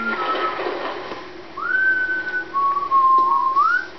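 A character in Resident Evil 6 whistles a few clear, sliding notes: a short tone, a gap, then a long rising whistle and a final upward swoop, close and loud, with no speech.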